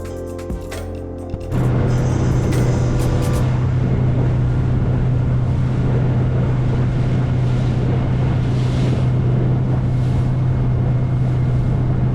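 The cruise ship Oosterdam leaving Kotor Bay gives a steady low drone that starts abruptly and holds, mixed with rushing wind buffeting the microphone.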